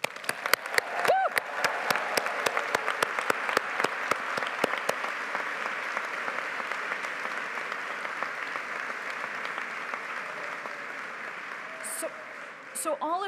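Audience applause for the 2024 graduates at a Humanities & Social Sciences graduation ceremony: sustained clapping from a large crowd, steady and dense for about thirteen seconds, with a few sharper claps at the start and a brief lull near the end.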